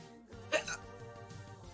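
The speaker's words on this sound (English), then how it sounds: "I bet you like them hiccups" A woman's single short hiccup stands out over a low background of sound and talk, with another faint catch following soon after.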